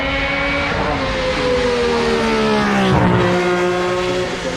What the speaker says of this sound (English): look at David Clark at the wheel of the Fittipaldi F6A